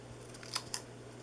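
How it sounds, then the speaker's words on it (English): Scissors cutting a small piece of silver foil for a handmade Christmas card, two quick crisp snips close up over quiet room tone. "I'm going to cut a little piece of silver foil."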